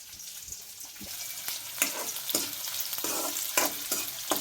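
Green chillies fry in hot oil in a pan, giving a steady crackling sizzle broken by repeated scraping strokes of a stirring spoon, close up and without talk.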